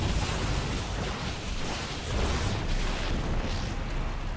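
A Tal'Darim cannon is blown apart in the strategy game StarCraft 2, a dense, roaring explosion with rolling rumble and crackle sustained for several seconds, loud and close without speech.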